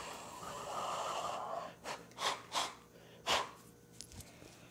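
A human voice imitates raspy breathing with four short, harsh breathy bursts, a fainter hiss before them and a couple of small catches after, close and isolated.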